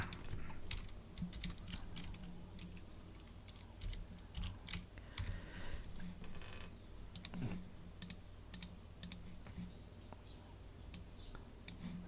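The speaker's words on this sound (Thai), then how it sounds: "เราพิมพ์ตัวหนังสือขึ้นมานะครับ" Text being typed on a computer keyboard, a fairly quiet, irregular patter of key clicks with brief pauses, continuing for about twelve seconds with no talk.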